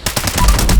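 Rapid automatic gunfire in Fallout 76 rattles out loud and close in a dense, continuous burst with no talking.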